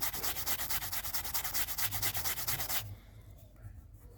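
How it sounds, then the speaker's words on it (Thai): A brush scrubs a dirty shoe coated in cleansing cream with fast, rhythmic back-and-forth strokes, loud and close, for about three seconds before stopping. "น่าจะออกแล้วก็ใช้แปรงขัดช่วย"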